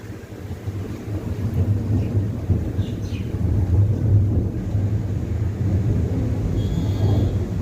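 Deep thunder rolls through a midday rainstorm with lightning, a long low rumble that swells and lingers for several seconds. It is fairly loud and heard alone, without voices.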